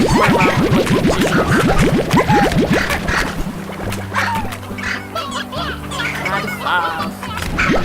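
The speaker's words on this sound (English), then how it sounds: "Just run around collecting chickens." Chickens in the video game Slime Rancher squawk and cluck in a busy, rapid cluster of bird calls with bouncy springy effects, loud and close, set against a steady tonal game music bed.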